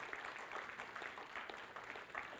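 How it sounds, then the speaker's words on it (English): Brief, sparse clapping from a church chapel audience, faint and scattered, heard at a distance without voices. "That was really like a pity clap"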